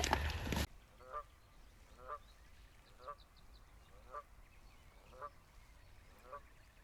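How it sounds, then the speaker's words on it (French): Goose calling at dusk by the water during a pike fishing outing, a distant, faint honk repeated about once a second, six or seven evenly spaced calls after a brief loud burst at the start. "La petite oie qui nous dit au revoir, qui nous dit c'est l'heure."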